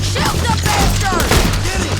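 Dense, loud gunfire in Red Dead Redemption 2, overlapping bursts and booms with a shouted voice mixed into the chaos.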